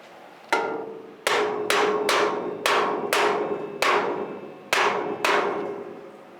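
A small hammer taps sharply on a cockpit bulkhead, about nine close, ringing metallic strikes at an uneven pace, each decaying briefly before the next, with no talking.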